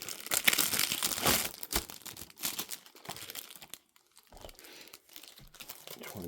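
Plastic wrap is peeled and crinkled off a Criterion Blu-ray release of The Sword of Doom, close crackling and tearing rustles that come in bursts with a short quiet pause partway through.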